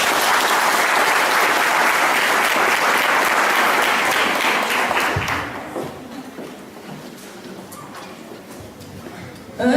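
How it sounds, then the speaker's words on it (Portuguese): Audience applause at a school event fills the first five seconds, loud and dense, then fades to scattered claps and quiet room noise. "Uma salva de palmas, gente."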